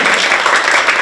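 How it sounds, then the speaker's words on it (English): A crowd at a book discussion event applauding steadily for a second, dense clapping with no pauses, fairly loud and close. "So, one applause for Lan for this today"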